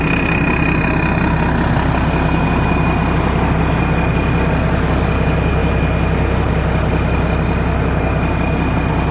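A combine harvester's J5 twin-turbo diesel engine idles close by, a steady, loud low rumble that holds unchanged throughout.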